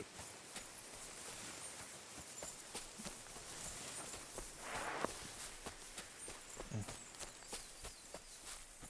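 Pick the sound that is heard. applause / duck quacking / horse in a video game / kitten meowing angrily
horse in a video game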